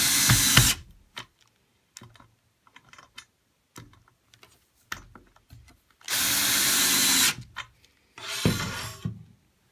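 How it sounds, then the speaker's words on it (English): Power drill driving wood screws while assembling a wooden home theater screen frame, with three loud whirring bursts at the start, middle and end separated by quiet gaps with small clicks and handling knocks. "And then simply tighten the wood screws."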